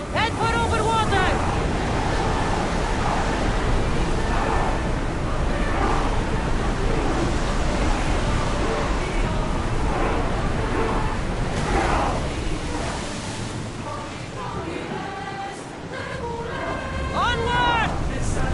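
A ship rowing over waves in the video game Assassin's Creed Odyssey: steady rushing water and wind with broad surf noise throughout, under intermittent voices calling out.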